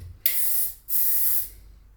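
Two short hissing bursts of body spray from an aerosol can, close and loud, with a brief pause between them and no talk over them.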